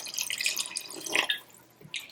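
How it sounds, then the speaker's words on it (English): Half a cup of water is poured into tomato meat sauce in a pan, giving brief splashy sputters and drips that swell and fade over a couple of seconds, close and moderately loud. "we're going to add about half a cup of water"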